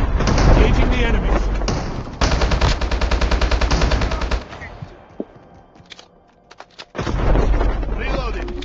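Rapid automatic gunfire in a video game squad battle, dense bursts of machine gun fire with booming impacts, pausing briefly mid-clip before another loud burst resumes.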